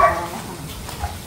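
A dog gives a short, fairly soft bark or yip at the start, followed by faint outdoor background noise in a rural yard.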